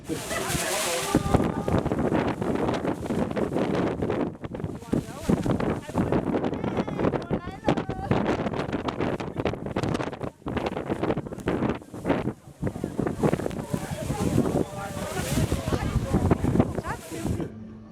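Strong wind buffets a microphone with roaring gusts throughout, and voices talk intermittently beneath the rumble.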